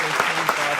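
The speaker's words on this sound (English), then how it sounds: "Clap it up for that, man." Short burst of applause, dense and steady throughout under a low hum, celebrating a subscriber milestone on a basketball reaction stream.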